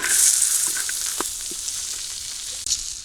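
Sliced bitter gourd and potatoes fry in hot oil in a village kitchen, giving a loud, steady, close hiss of sizzling with a few faint clicks of stirring.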